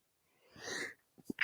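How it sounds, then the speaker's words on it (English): A single close human sneeze, with a breathy inhale building into a burst, followed by a few short sniffy, throaty noises. "Excuse me, I sneezed."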